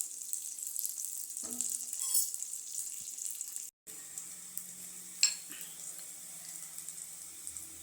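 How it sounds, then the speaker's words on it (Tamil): Onions sauté with salt in a pan for a traditional Tamil lentil-dumpling kuzhambu, giving a soft, steady sizzle with a few louder stirring clatters and one brief cut in the middle. "வெங்காயம் நல்லா பொன்னிறமாக வதங்கிடுச்சு"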